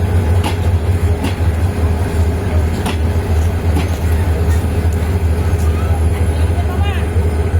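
A passenger train on an overnight run from Mymensingh to Chittagong rumbles along the rails, with a constant low drone, periodic clatter and faint squeals, heard loudly from inside a carriage with no speech.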